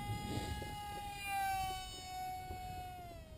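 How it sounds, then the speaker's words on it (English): Mini Sky Fun RC model airplane motor throttling up: a faint, steady high-pitched whine that slowly drifts lower in pitch. "I like the sound when we add throttle."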